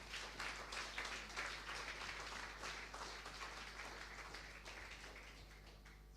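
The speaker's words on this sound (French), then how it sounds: "On acclame très fort le roi des rois." A church congregation at a worship service applauds the king of kings, a sustained wash of many hands clapping for several seconds at moderate distance, steady and slowly tapering.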